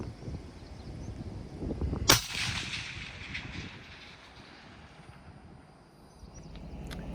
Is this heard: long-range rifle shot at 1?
yes